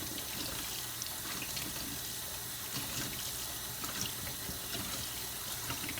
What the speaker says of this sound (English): put on some super hot water so that we can rinse our implements off